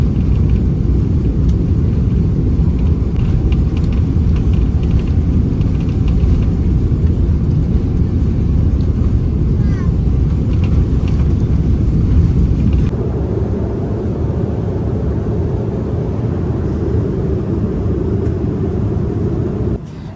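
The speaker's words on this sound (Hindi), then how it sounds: "अभी जहाज़ टेक ऑफ करने लगा है और जब तक ये वाइब्रेशन रहेगी जहाज़ के अंदर, समझ लें कि जहाज़ अभी ज़मीन पर ही है" Inside a passenger airliner cabin at Istanbul Airport during the takeoff roll, a loud, steady engine rumble and runway vibration drone on without a break, easing slightly partway through.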